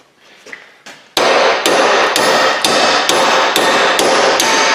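Steady metal hammering on a vehicle drive shaft during U-joint replacement, about eight loud ringing blows at an even rhythm, close by, after a few quieter taps at the start.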